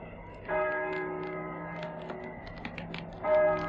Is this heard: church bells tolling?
yes